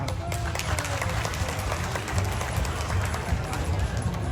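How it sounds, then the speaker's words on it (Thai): A crowd at a national buffalo contest for giant bulls claps steadily and loudly through the whole stretch, a dense patter of many hands with a voice talking over it. "เสียงปรบมือตรงกับใจคณะกรรมการครับ"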